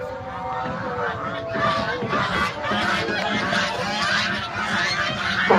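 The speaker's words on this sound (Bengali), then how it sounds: "এখানে রাজহাঁস পালন করা হয়" Domestic geese kept on mosque grounds honk repeatedly in a noisy, continuous chorus, with crowd babble and voices mixed in throughout.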